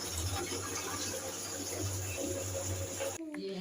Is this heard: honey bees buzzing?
no